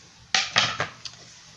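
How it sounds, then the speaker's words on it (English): A knife chopping cilantro on a cutting board, three quick sharp chops followed by a lighter fourth tap, close and fairly crisp against a quiet room. "I'm chopping up cilantro."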